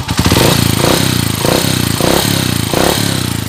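A Euro 125 motorcycle engine fitted with a 62mm block runs loud and close, revving up and down in a repeating pattern while a rapid mechanical ticking shows through.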